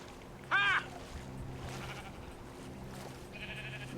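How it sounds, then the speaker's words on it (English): A single short bleat from a Minecraft sheep, bright and close, lasting under half a second over a steady low background hum. "It's a sheep."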